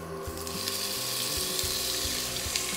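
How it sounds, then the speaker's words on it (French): Onion, garlic and lardons sauté in a casserole for veal roast, a steady loud sizzle and crackle with faint clinks, continuous throughout without speech. "On va faire revenir l'oignon et l'ail."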